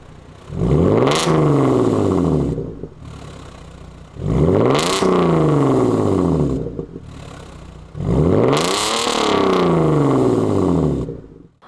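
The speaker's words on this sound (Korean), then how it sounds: "배기 먼저 듣고 오시죠" Tuned Genesis EQ900 sedan with an aftermarket exhaust, revved three times in a row, each a loud, close surge of engine roar that rises, holds and drops back to idle between bursts.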